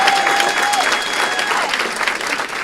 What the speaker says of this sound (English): Let's give Byron Brown a great round of applause.